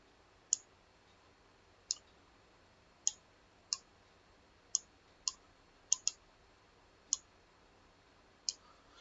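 Sharp computer mouse clicks, about ten of them spaced irregularly at roughly half-second to one-second intervals, close and fairly quiet, with a quick double click partway through and no talking.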